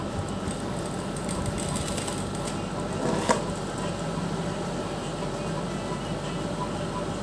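A sewing machine stitches along the edge of a fabric neckline, giving a steady, close mechanical rattle that runs the whole time, with one brief louder clack near the middle.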